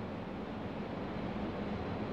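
Steady wind rushes in an even, low roar of broad noise that holds unchanged throughout, with no voices.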